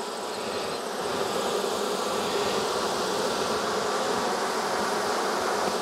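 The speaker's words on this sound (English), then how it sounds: "There's bees everywhere." Bees buzzing around an opened hive whose comb is being cut apart, a dense, steady swarm hum that fills the air, close and loud throughout with no talking.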